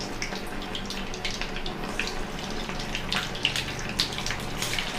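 Rounds of oats bonda batter fry in hot oil over a medium flame, a dense, steady sizzling crackle with frequent small pops, close and continuous.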